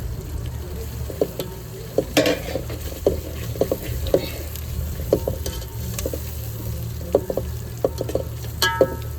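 Tomatoes frying with turmeric for a goat-head curry, giving a steady soft sizzle while a spoon stirs the pan, with small scrapes and taps now and then.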